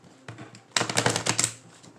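A deck of tarot cards being shuffled: a brief rustle, then a dense burst of rapid riffling flutters, close and fairly loud, with no voices.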